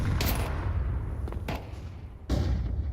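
Two grenades bursting down ramp in a Counter-Strike match: sharp, loud blasts with crackling tails, one early and a second near the end, separated by quieter rumbling game ambience.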